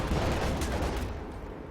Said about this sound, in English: Su-76 firing away